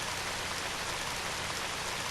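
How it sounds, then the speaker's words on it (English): Steady rain falls in the video game Radiant Historia, a dense, even hiss of drops with no breaks or voices across the short stretch. "It started to rain."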